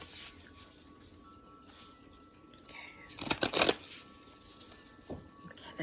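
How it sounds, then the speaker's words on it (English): Oracle cards from a Spirit of Nature deck being shuffled by hand, a short burst of crisp riffling and crackling lasting under a second, louder than the quiet room around it. "So I'm just going to do a quick shuffle."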